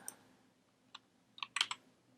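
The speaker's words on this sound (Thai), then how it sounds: "อันนี้ผมก็จะพิมพ์เข้าไปว่า" A few quiet computer keyboard keystrokes in a sparse, irregular pattern, including a single tap and a short quick burst near the end, against a faint background hum.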